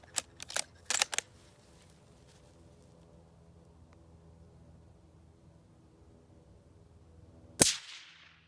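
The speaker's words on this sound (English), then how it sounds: "You hear that crack, but the boom is negligible." A single sharp, loud crack of a Ruger American Ranch .223/5.56 rifle shot through a homemade suppressor rings out and decays quickly, preceded by a few quieter clicks and a long quiet stretch.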